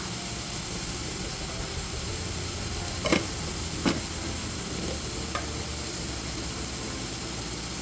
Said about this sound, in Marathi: आता हे सर्व मसाले आपण तेलावर परतून घेऊया